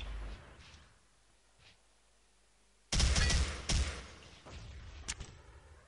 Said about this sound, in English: making the little shots there with his G36